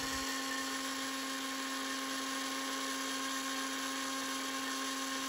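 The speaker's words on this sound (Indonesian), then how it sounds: "Langkah pertama di sini saya blender togenya sebelum kita lakukan pencampuran semua bahan." Bean sprouts are whizzed in a kitchen blender for homemade liquid organic fertilizer, producing a steady, high-pitched motor whine that runs unbroken and loud from start to finish.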